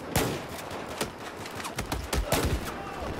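Pistol shots in Battlefield 4 during a pistols-only gun game match, a string of sharp close cracks spaced unevenly, some in quick pairs, over a continuous background of game noise.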